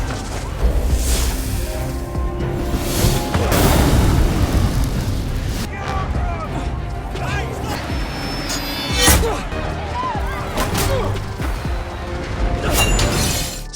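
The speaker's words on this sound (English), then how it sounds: "Victor picked up a torch and threw it into a pile of fireworks, successfully rescuing Igor with the explosion." A pile of fireworks erupts in a film scene, loud bursts and booms crackling in quick succession with crashing debris, mixed with music and dialogue.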